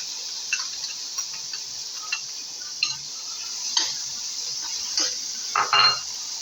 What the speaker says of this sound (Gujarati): હવે આ ડુંગળી થોડી સતળાવા માંડી છે